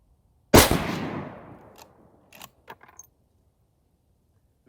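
A single loud, sharp rifle shot from a Ruger M77 chambered in .250 Savage cracks nearby and decays into a long echo, followed by faint clicks and small metallic handling noises.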